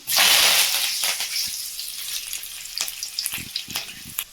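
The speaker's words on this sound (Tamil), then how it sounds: "இப்போ இது வந்து நல்லா ஃப்ரை ஆகிடுச்சு. கருவேப்பிலை சேர்த்துக்கலாம்." Peanuts, chana dal, urad dal and curry leaves fry in hot oil with a loud burst of close sizzling that settles into a softer crackle, broken by scattered stirring clinks and spatters, with no voices.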